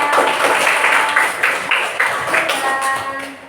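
Brief burst of clapping from a classroom audience after a group presentation on biodiversity conservation, loud and close at first, then thinning out as it fades over a few seconds.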